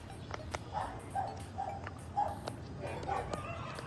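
Dogs bark in the distance, about five short, fairly evenly spaced barks over a steady low background hum.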